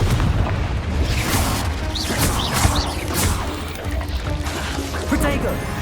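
Confringo blasting spell in the Hogwarts Legacy video game bursting with loud booms and crashing impacts amid dense, continuous combat noise and effects, with voices mixed in.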